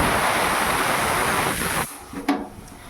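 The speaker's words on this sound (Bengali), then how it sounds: "আলুটা ভাজা হচ্ছে" Potatoes frying in a pan, a loud steady hiss of oil that drops away suddenly near the end, followed by a few quieter spits and crackles.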